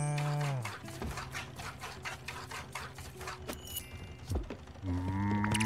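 A cow in the video game Spiritfarer lets out a long moo amid rapid clicking and ticking game sounds, with bright chime-like tones at the start and end.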